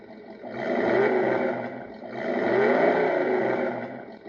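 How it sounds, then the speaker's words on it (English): An electronic V8 engine sound from a Tamiya MFC-02 unit in an RC Ford F350 4x4 truck revs up and down twice in smooth, loud swells, with no voices. "let's have a listen to that 2nd engine sound. This is the V8."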